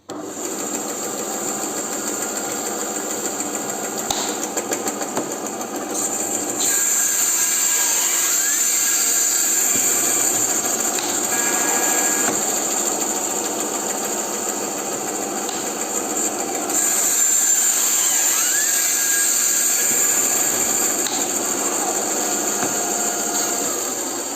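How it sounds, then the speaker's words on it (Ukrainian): A homemade fixture machine clamps each part and pushes it through a blade in cycles, giving a steady high-pitched mechanical whine and hum with a clear cycle change near the middle of the run and no talking over it. "Сюди встромляється деталь, зажимається, проштовхується через лезо, відпускається, вона там падає, вертається на місце і ставиться інша деталюха."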